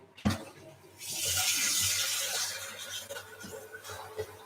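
Tap water runs steadily in a kitchen during holiday treat-making, a loud broadband rush that starts after a brief clunk and holds near and continuous, easing slightly toward the end.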